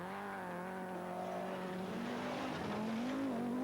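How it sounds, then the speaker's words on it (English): A 330-horsepower five-cylinder turbocharged four-wheel-drive Audi Quattro rally car drives with a steady engine drone that rises in pitch toward the end, heard from a distance under a faint hiss. "4-wheel drive, 330 horsepower, 5-cylinder turbocharged Audi Quattro. And there is the man at work."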